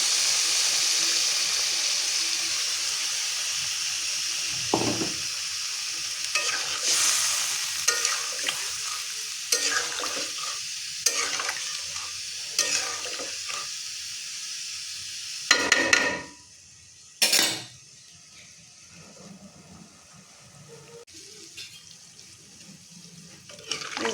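A spoon stirs curry with broth in a pan on a home kitchen stove, with repeated scraping strokes and knocks against the metal over a low sizzle and occasional louder clanks, no voices.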